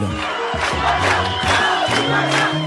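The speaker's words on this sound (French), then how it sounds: "puis le nom de la victime est scandé par la foule" Crowd chanting a victim's name in rhythmic unison at a march in La Grand-Combe, France, after a minute of silence; many voices repeat the syllables loudly and steadily in the open air, with no other talk over them.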